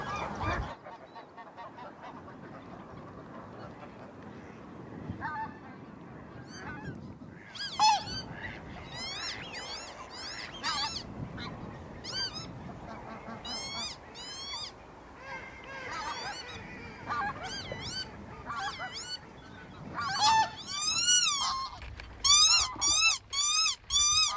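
Geese honking repeatedly from a waterfowl hunting hide, calls scattered throughout and growing denser and louder toward the end, some near and some distant over steady outdoor background noise.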